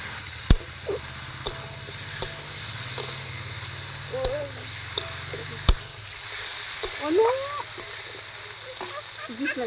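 Meat added to spice masala sizzling in a pan, a steady frying hiss with sharp clinks of a spoon against the pan and faint background voices.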